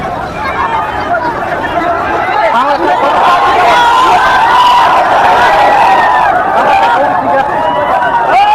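A large crowd of Pawan Singh fans filling the streets of Vikramganj, a dense, continuous roar of cheering, shouting and chatter, loud and close throughout with no pauses.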